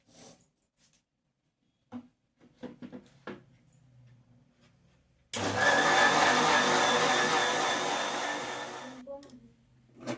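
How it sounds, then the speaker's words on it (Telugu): A kitchen mixer grinder whirs loudly for about four seconds, grinding a spice paste of chilli powder, masala powder and turmeric, after some brief knocks and handling sounds, then stops abruptly. "మిక్సీకి వేసుకుంటాం"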